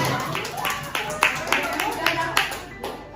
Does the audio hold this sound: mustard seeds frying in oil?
no